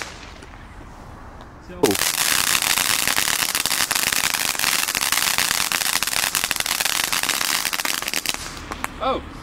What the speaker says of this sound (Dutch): goede kwaliteit vuurwerk wat je hier hebt dit jaar